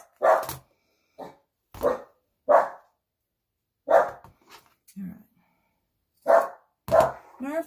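Indoor dog barking in a series of sharp, loud, close barks spaced irregularly, with a low growl or whine between them and no speech.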